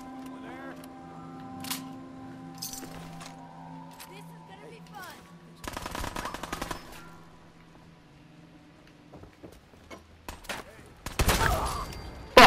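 Shotgun fire in Fallout 4, two loud bursts of blasts rising out of quieter game sounds, the first midway through and the second near the end.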